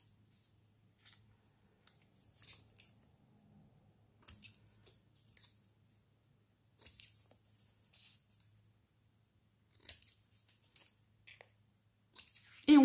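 Scissors bevel-cut paper for a scrapbook folder, giving quiet, scattered snips and crisp paper rustles in short clusters against a near-silent room with a faint low hum.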